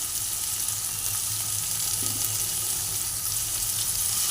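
Grated ginger and garlic fry in a pan with a steady, moderate sizzle and a faint stir partway through, with no voices.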